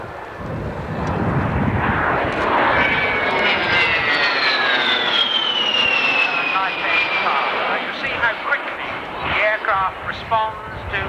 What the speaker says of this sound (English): The aircraft is the A-10.